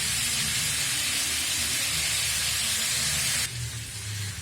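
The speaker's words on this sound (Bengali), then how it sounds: "চিকেনটা খুব কম তেল দিয়ে একেবারে এটাকে কষাচ্ছি" Chicken browning in a little oil gives off a loud, dense, continuous hiss of sizzling close up, which drops abruptly in the last second, leaving a softer sizzle over a low rumble.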